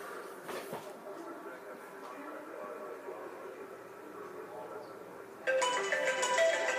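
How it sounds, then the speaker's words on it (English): A phone rings in the video game Mirror's Edge, its bright electronic ringtone cutting in loudly after about five seconds of quiet indoor ambience. "A phone call by Gabriel Krueger"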